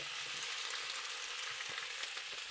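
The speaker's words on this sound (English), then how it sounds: "I'm gonna add another tablespoon of oil, and I'm gonna add the tomatoes" Tomatoes stir-frying in hot oil in a wok over high heat, a faint, steady hiss of sizzling with light crackles and no voices.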